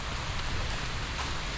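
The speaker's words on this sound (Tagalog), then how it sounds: "ayan na naman ang ulan" Steady rain falls on a farm, a dense, even hiss of drops spattering across surfaces, continuous and moderately loud throughout with no voices.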